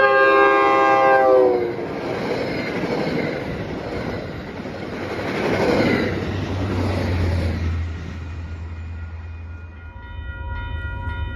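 An MBTA commuter train with a GP40MC locomotive on the rear and a Comet cab car leading sounds a loud multi-tone horn at the start, then rumbles past close by with steady wheel and engine noise, and a second horn tone rises faintly near the end.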